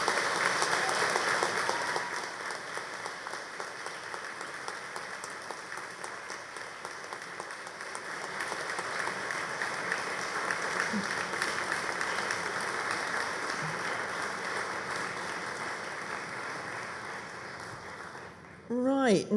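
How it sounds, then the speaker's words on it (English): At a University of Manchester graduation ceremony, a large hall audience gives a sustained round of applause for graduates' families and supporters, dense steady clapping lasting many seconds before a voice returns at the end. "Big round of applause."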